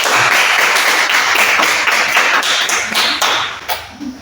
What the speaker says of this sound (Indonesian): tepuk tangan kita yuk